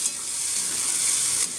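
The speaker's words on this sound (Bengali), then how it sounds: "এবার এই মশলাটাকে ভালোভাবে কষিয়ে নেব।" Spice paste mixed with sour yogurt and biryani masala sizzles steadily as it is fried in oil, a loud, continuous hiss close up with no talking.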